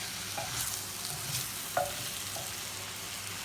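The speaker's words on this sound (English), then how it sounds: "So again, we're just going to stir this" Chicken curry being stirred in a pot, a soft steady scrape and swirl of spoon through liquid at close range, with a few brief clinks against the side and a low simmer underneath.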